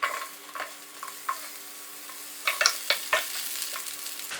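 Sizzling and popping from onions frying in hot oil, with scattered crackles and a few louder bursts of stirring near the end.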